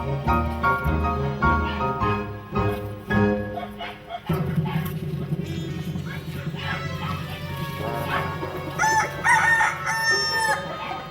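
Hens cluck and a rooster crows several times in a farmyard flock disturbed by a rat snake, the calls loud and close, overlapping with a narrator's voice.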